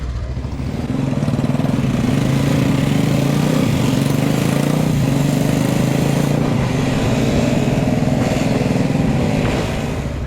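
A motorcycle on a ride through Malappuram, Kerala, holds a steady, close engine drone with a mid-pitched hum and faint rises in revs, running continuously without speech.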